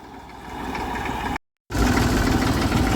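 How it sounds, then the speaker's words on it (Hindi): A small Massey tractor engine runs steadily nearby with a rough knocking idle, broken by a brief gap of silence, then resumes slightly louder. "मेसी ट्रैक्टर छोटे वाला"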